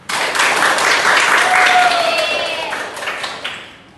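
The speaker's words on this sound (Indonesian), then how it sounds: "Kita kasih aplaus untuk kita semua." Classroom applause during a microteaching lesson, a few seconds of close, dense clapping that fades out toward the end.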